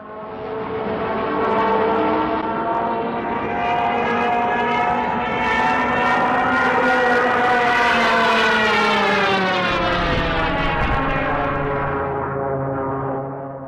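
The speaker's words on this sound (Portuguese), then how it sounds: "Mas qual era o sentido de ter essas sirenes nos Stuka?" A Stuka dive bomber's siren wails loudly and continuously, rising steadily in pitch and then slowly falling, droning for several seconds with no voices.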